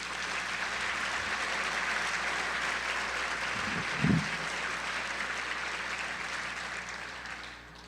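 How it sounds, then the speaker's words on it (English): Steady applause fills a hall at a keynote event in Lincoln, a dense even patter of many hands, moderately distant, with one brief thump midway. "Can we give her a round of applause, please?"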